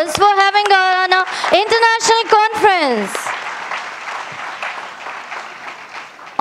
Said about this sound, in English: So please give them a big round of applause for having our international conference.